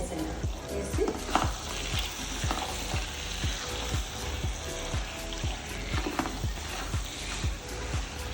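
Butter chicken with kasuri methi is stirred in a sizzling pan. A spoon scrapes through the thick gravy in a steady rhythm of about one stroke per second, close and clear, over a constant frying hiss.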